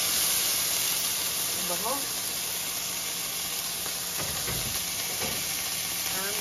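Tomatoes hitting a hot pan for a vegetarian noodle soup, giving a steady close sizzle with faint stirring scrapes, while someone talks over it.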